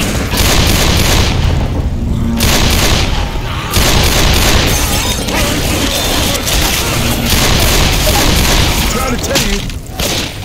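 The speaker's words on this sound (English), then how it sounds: "Shooting each other is not helping each other." Dense, continuous gunfire and booming blasts from Left 4 Dead 2's Dead Center hotel level, a loud, unbroken barrage of shots and explosions filling the whole stretch with barely a pause.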